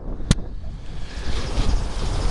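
Strong gusty wind roars across an outdoor microphone, a broad steady rush with rising buffets, opened by one sharp knock near the start.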